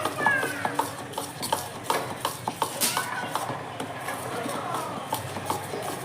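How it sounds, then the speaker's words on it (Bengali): A ladle stirs melted date palm jaggery in a pan for pitha batter, giving soft irregular scraping and tapping strokes, fairly faint and close, with background noise. "এবার আস্তে আস্তে করে হাতা দিয়ে আমি নাড়তে থাকবো"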